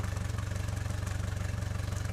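A Mercury FourStroke outboard motor, a 75, 90 or 115 hp model, idles steadily to warm its oil, giving a close, even low rumble with a rapid regular pulse and no talking.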